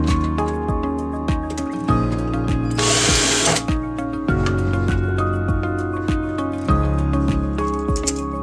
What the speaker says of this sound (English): Insert the lock cylinder fixing screw from the side of the lock body. Pass it through the lock cylinder and tighten it.